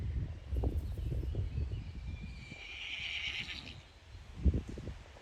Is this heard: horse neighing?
yes